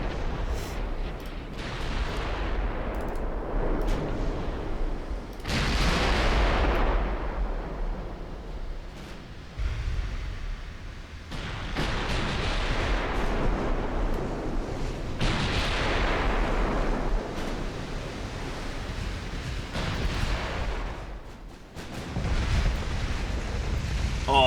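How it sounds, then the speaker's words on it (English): Big naval guns on warships in a battleship video game fire in heavy booming salvos, each a deep roaring blast that rumbles away before the next, repeated several times over a constant low background rumble. "Oh, those are big guns."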